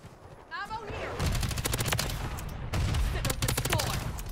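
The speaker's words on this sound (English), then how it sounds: "We're gonna drop this VTOL right now, right in middle." VTOL gunship killstreak in Call of Duty MW3 unleashes rapid bursts of heavy automatic cannon fire, loud repeated volleys with brief gaps, over other in-game gunfire and effects.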